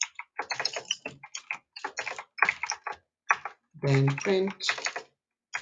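Keys clatter on a computer keyboard as Python code is typed, with quick light taps scattered under steady talking.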